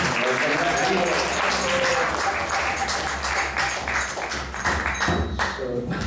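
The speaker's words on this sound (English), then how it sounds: "So let's give a round of applause for Garavana Prabhu." Applause from a temple class audience at an ISKCON temple in Atlanta, dense and close with scattered individual claps, while a voice speaks briefly over it.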